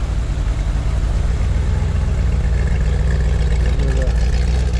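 A 1965 Chevrolet Corvette convertible engine idles through dual exhaust with a steady, loud low rumble that stays even and close throughout, with no break in the sound.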